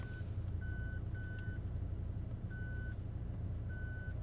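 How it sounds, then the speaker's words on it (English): A McLaren 720S's parking sensor beeps in short evenly spaced tones, two or three at a time, over a low steady engine rumble. "That's the parking sensors."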